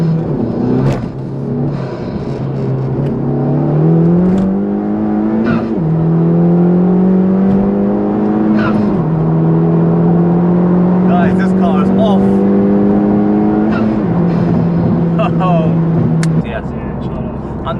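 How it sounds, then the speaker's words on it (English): Honda Civic Type-R FK2 engine revs up in stepped rising pulls through several gears with induction noise, loud and close, while voices talk over it. "you can hear the blow off and the sort of unique induction noise coming from"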